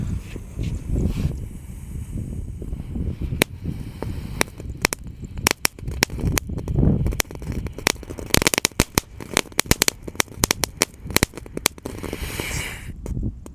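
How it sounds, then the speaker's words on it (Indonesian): A Thor tank firecracker crackling and popping after being lit, a long irregular burst of sharp snaps and rapid crackles that grows denser, with hissing underneath, close by. "Di sini ada mercon tank guys, tank Thor. Kita nyalakan ya."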